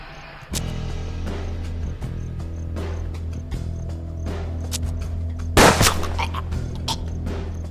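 Gunfire in the video game Hard West on Nintendo Switch: several sharp shots with one heavier, louder blast near the end, over a sustained musical drone.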